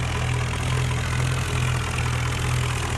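Swaraj 744 tractor engine in a video game, labouring under a loaded trolley, a steady low drone with a strong bass hum that holds constant and loud throughout, no voices.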